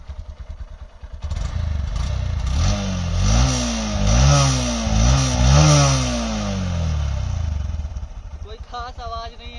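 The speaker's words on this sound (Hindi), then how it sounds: "अब एग्जॉस्ट नोट सुनाते हैं एसपी साइन के पहले।" Honda SP 125 motorcycle exhaust note, engine idling then blipped several times in rising and falling revs, close and moderately loud with someone talking over it.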